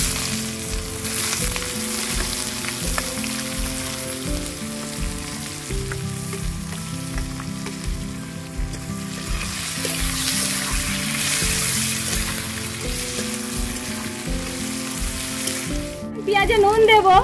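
Chopped onions hit hot oil already holding whole cardamom, cloves, cinnamon and bay leaf for a home mutton curry, a steady loud sizzle with stirring and faint talk underneath.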